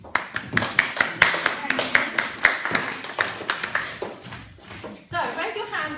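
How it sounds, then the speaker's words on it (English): An audience applauds a colleague named Jill, with scattered, uneven hand claps for about five seconds before they fade and a voice begins speaking. "if we could give a little pat of applause for my colleague Jill"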